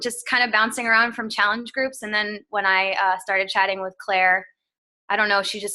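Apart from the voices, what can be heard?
No everyday noise stands out behind the speech.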